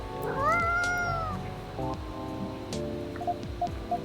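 A cat meows in the video game Coffee Talk 2, a single drawn-out rising and falling meow followed by a shorter one, with soft game chimes and clicking interface sounds behind it.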